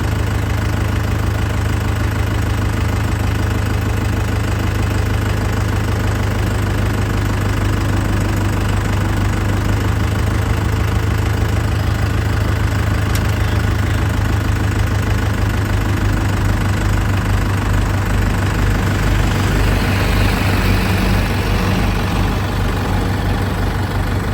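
A tractor engine runs steadily for the whole stretch, loud and close, with a heavy low rumble and a knocking idle beat, at work building up an embankment along the Beas river. No one speaks.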